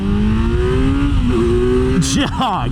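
A 2024 Kawasaki Z900 motorcycle engine revs and climbs in pitch steadily and loudly, then shifts and surges again with a brief burst of higher-pitched noise.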